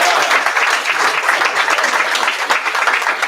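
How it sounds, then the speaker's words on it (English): A room at a city council meeting breaks into a sustained round of applause, dense, even clapping from many hands that stays loud throughout. "Let's give them a round of applause."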